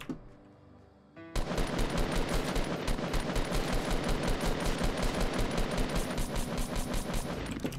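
Gunfire in Fortnite starts abruptly after a quiet moment and continues as a sustained rapid automatic burst, loud and even, with no talk over it.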